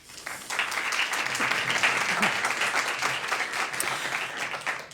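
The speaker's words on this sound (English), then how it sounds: "Please give them a round of applause." Steady applause from a crowd, sustained clapping filling the whole stretch at an even, fairly loud level.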